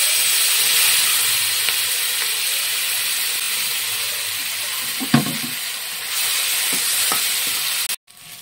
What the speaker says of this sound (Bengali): তেলের মধ্যে আমি কালো জিরাটা দিয়ে দিলাম, আর দেবো তেজপাতা, আর এই পেঁয়াজগুলো ছেড়ে দেবো